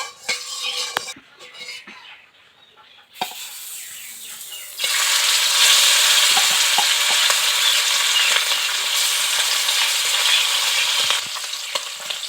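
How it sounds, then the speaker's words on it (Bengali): Koi fish frying in hot oil in a wok, a loud, steady broadband sizzle that swells after a few seconds of quieter kitchen clatter and carries on continuously without talk. "এখন মাছগুলোকে একটু ভেজে নেব"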